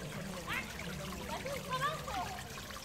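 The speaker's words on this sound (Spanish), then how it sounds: "Mirad la cascada, qué chula." A small waterfall in a garden pond splashes and trickles steadily close by, with a few faint high chirps over the running water.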